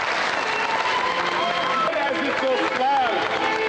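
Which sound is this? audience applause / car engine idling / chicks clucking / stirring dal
audience applause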